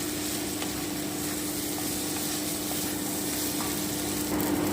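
Dalia and dal stir-frying in a pan, a steady low sizzle running evenly throughout with faint scraping, close and continuous, no voices.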